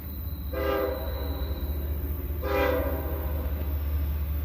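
Two long blasts of a freight train horn ring out close by at a railroad track with no crossing nearby, each lasting about half a second, over a steady low rumble of the passing train.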